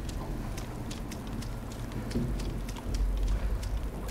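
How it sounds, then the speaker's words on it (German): Steady rain in the survival game DayZ, a constant hiss with faint droplet ticks and a low rumbling bed throughout, swelling slightly louder near the end, with no talk over it. "Jetzt laufen wir hier im Regen rum"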